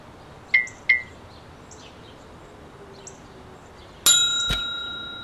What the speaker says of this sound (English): He rings it all day and he rings it real well.